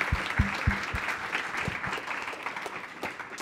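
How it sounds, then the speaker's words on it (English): An audience breaks into warm applause for a presenter at the close of a talk: dense, close clapping with a few sharp individual claps standing out at the start, thinning slightly as it goes on. "could everybody give a massive round of applause for Ricardo?"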